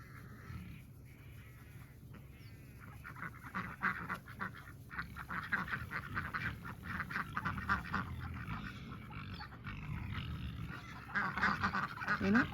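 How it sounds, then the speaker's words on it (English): Ducks, including a few drakes, quack and honk repeatedly on a frosty winter morning in a garden, a busy overlapping flock close by with scattered calls building in intensity. "I think we've got 2 or 3 boy ducks"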